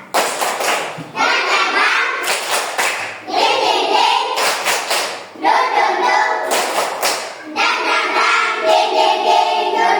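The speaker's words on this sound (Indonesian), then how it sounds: "satu kali lagi kita tepuk semangat" A class of children performing a rhythmic clapping chant in an Indonesian classroom, bursts of sharp unison claps alternating with loud chanted voices in a repeating pattern.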